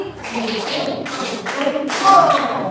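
A group of schoolchildren clap their hands together in a short counted series of soft, slightly ragged claps, close by, with faint voices in the background.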